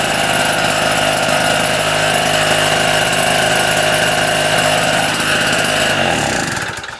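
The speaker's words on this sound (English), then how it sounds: "So that's running now. I'm going to leave this running for a little bit just to burn off any badness inside." Petrol generator engine running after a choked start, a loud, close, steady buzzing drone that holds for several seconds before easing down at the end.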